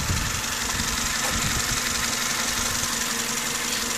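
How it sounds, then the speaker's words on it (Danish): A 1998 Mazda 626 with a 2.0-litre engine idles in a steady, even, close-up hum with a light ticking texture, running unchanged and alone with no talk. "Så har vi motoren, som lyder som en typisk Mazda"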